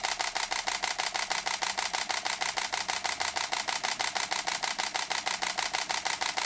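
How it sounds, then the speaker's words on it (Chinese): A Canon 50D camera fires its shutter in a high-speed continuous burst, a rapid, perfectly regular stream of crisp mechanical clicks, close and loud, sustained for several seconds. "我们现在对着目标按下快门"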